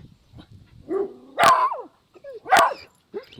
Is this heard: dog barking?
yes